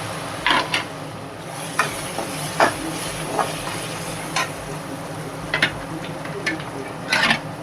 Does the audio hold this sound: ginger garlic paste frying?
yes